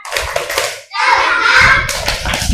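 Children in a classroom clap their hands together in a rhythmic group clap, loud and close, with bursts of kids' voices between and under the claps.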